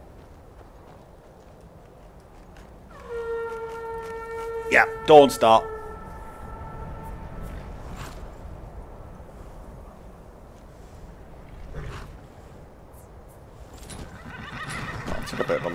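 A horse whinnies loudly in the Skyrim video game, a shrill, wavering neigh lasting a few seconds, followed by soft hoof and ambient game sounds while someone talks casually over the top.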